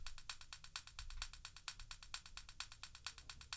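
Sticks or pencils tapped against a desk in a steady repeating pattern of hard, soft and medium hits, as a percussion sample for indie game music. Quick, evenly spaced clicky strikes with no voices.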